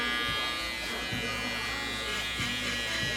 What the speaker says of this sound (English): my trimmer should blend right into that clipper